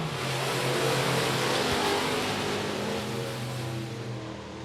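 Race cars at I-37 Speedway accelerate together on a restart after a yellow flag, a dense, loud, continuous engine roar with steady revving drone filling the whole stretch.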